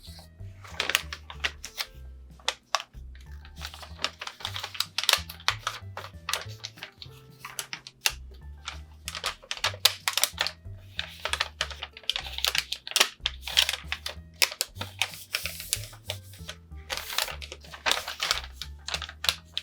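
Paper folded and creased for an origami clown, dense crinkling and tapping rustles close by over a low pulsing background tone, with no talking.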